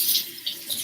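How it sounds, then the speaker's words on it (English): Tap water runs briefly into a kitchen sink as hands are washed during baking, a soft close hiss of flowing water with no talking. "Now I'm gonna just wash my hands."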